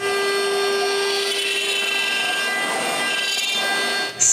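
A CNC machine cutting plywood, a loud steady high-pitched whine of the spinning spindle with a constant droning tone and faint grinding as the bit moves, ending with a brief dip and a short click.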